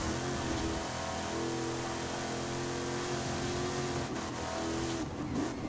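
A Saleen F150 truck engine in Forza Horizon 5 drones steadily throughout, with a continuous loud hum that holds its pitch as the truck takes corners. Brief dips near the end suggest small shifts in throttle.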